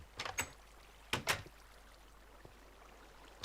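Two short mechanical bursts from a door opening in a video game: a quick double click near the start, a louder clunk about a second later, then quiet with a faint tap at the end.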